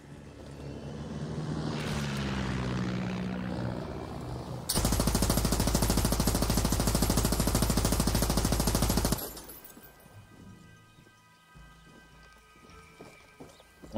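Gunfire and aircraft in the video game Far Cry 6: a dense, loud burst of rapid shots lasting several seconds, then a low droning engine hum fading under quieter game ambience.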